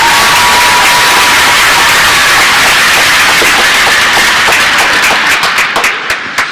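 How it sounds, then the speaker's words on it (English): Crowd at a hockey game applauds and cheers loudly in a packed arena, a dense roar of clapping and shouts that thins into scattered individual claps near the end. "Let's give her a round of applause."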